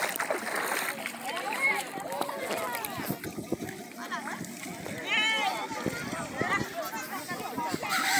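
Boats racing on the São Francisco river at Povoado Patos in Traipu, Alabama region of Brazil, with continuous splashing and churning water under lively crowd chatter and shouts throughout.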